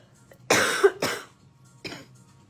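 A woman coughs three times, two sharp coughs in quick succession and then a lighter one, close to the microphone in a quiet room.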